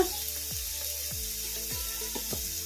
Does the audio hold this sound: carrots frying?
yes